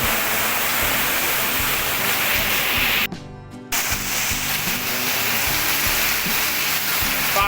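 Heavy rain pours in a dense, steady roar, loud and unbroken apart from a brief dropout partway through.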